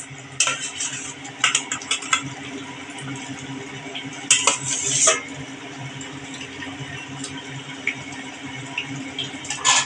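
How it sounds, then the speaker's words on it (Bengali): Pomfret fish pieces going into a pot of boiling curry, with soft clinks of a utensil against the pot and brief stirring clatter over a steady bubbling simmer, close and moderately loud. "দেখুন আমার ঝোলটা কিন্তু একদম ফুটে উঠেছে এখন আমি মাছগুলো দিয়ে দেব"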